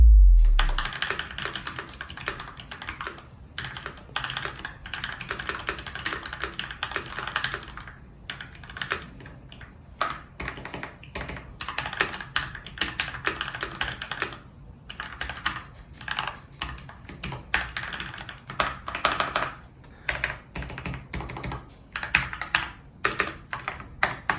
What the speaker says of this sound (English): And now for the finished product and the typing test.